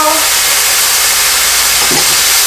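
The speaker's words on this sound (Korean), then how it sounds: "불을 먼저 끄고 참기름 살짝 둘러줄게요." Sesame oil drizzled into a hot pan of stir-fried water spinach after the heat is turned off, giving a loud, steady steamy hiss and sizzle with a faint stir near the end.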